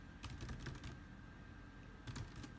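Typing on a computer keyboard, with short bursts of close, quiet key clicks separated by a pause, over a low room hum.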